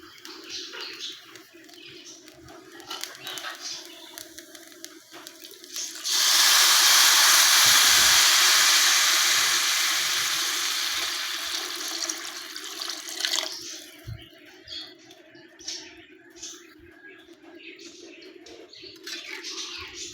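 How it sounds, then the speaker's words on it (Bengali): Water pours steadily into a pan of broken-rice mixture for khuder bou bhaat, a loud rushing splash lasting several seconds before tapering off, with quieter kitchen clatter before and after. "এখন আমি পানি দিয়ে দেব।"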